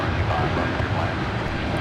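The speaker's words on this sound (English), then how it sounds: "We're going to have a domestic wide-body flight for American Airlines, Flight 3013 with a 777-200ER" An American Airlines Boeing 777-200ER departs LAX, its jet engines producing a steady broad roar while a voice talks over it.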